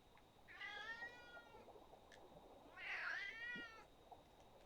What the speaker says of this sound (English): Cat, I am streaming. You are interrupting.